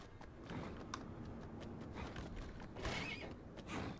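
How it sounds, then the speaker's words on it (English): A horse in the video game Kingdom Two Crowns whinnies and plods at a walk, soft hoof clops and creaks repeating under a faint game ambience. "And my horse refuses to sprint."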